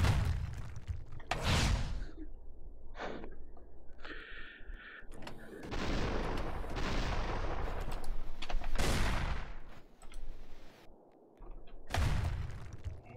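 Rockets bursting in the VR game Davigo, a run of loud, booming explosions and whooshes hitting in rapid irregular bursts, with a few brief quieter gaps between blasts.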